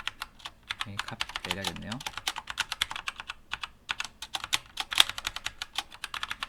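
Computer keyboard typing while coding Alpine.js examples: a steady, close run of crisp key clicks with uneven rhythm, with someone speaking briefly over the keys near the start.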